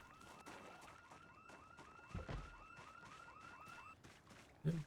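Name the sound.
house alarm ringing in a zombie video game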